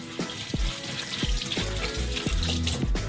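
Running tap water splashing over crumpled parchment paper being soaked in a sink, a steady close hiss broken by irregular sloshes and drips, with no talk.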